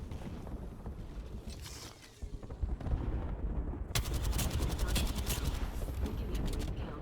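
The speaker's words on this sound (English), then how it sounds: "we got an airstrike coming down" Video game combat with an airstrike coming down: dense bursts of gunfire and booming explosions rumble continuously, growing louder and sharper with rapid rattling shots in the later half.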